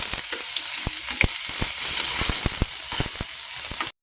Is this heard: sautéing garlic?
yes